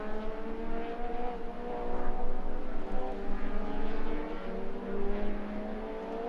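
Race cars pass on a circuit during a club racing round, their engines forming a continuous loud droning whine that swells around the two-second mark and again near the end, with no talk over it.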